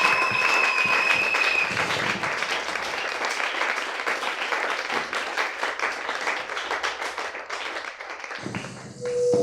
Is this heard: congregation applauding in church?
yes